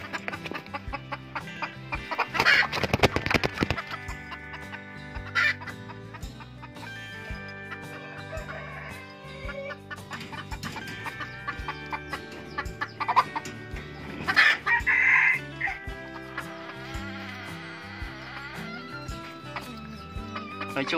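A domesticated jungle fowl rooster, kept caged at home beside a decoy hen, crows and clucks in scattered bursts, with a few sharp louder calls standing out over a quieter background of farmyard sounds.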